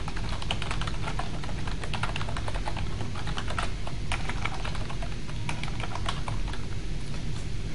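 Steady, rapid typing on a computer keyboard, close and continuous, with irregular clusters of key clicks and no voices.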